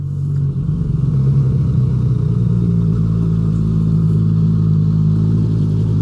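A motorbike ridden up a steep mountain pass, its engine a loud, steady low drone close by throughout, with no voices.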